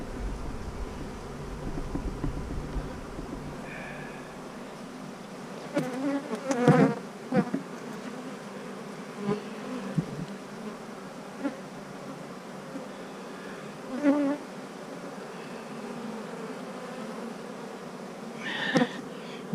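Honeybees hum steadily from an opened hive frame holding pollen and larvae, a close, continuous buzz with occasional louder bees passing near.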